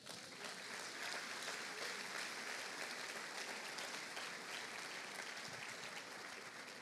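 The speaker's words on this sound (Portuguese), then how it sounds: "Quantos podem aplaudir a Jesus por isso?" Steady applause from a church congregation fills the space, a dense wash of clapping that holds at an even level throughout without pause.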